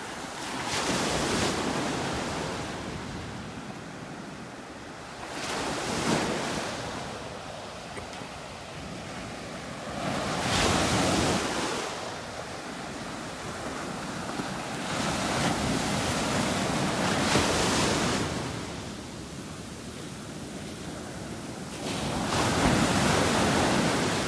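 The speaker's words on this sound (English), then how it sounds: "I love just listening to the sounds of the waves breaking on the shore." Waves breaking on a beach shore in North Naples, Florida, each surge building to a loud rushing crash and fading, about five sets arriving every four to five seconds under steady wind noise.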